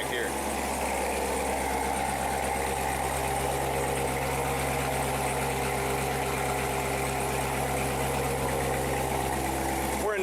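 A 2014 Corvette sports car engine idles steadily nearby in a showroom with its exhaust open, a deep, continuous rumble and a slight throb, holding the same level throughout.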